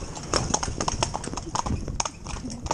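A ridden horse wearing a rubber bit clip-clops at a steady walking rhythm, the hoof strikes close and distinct over about three seconds of quiet ambient noise.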